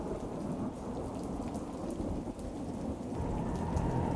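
Heavy nighttime downpour with thunder: dense, continuous rain roar and low rolling rumbles, steady throughout with no voices.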